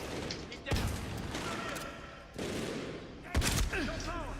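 Pistol fire in Medal of Honor Warfighter gameplay: a few sharp shots at irregular intervals amid dense battle noise, with a voice talking over the action.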